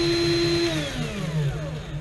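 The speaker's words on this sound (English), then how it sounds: "I want to drill the 5/8 hole 3/8 of an inch deep." Power drill boring a 5/8-inch hole into a plastic Nerf blaster, a close whining motor tone that drops in pitch as the bit bites into the material, loud and continuous for two seconds.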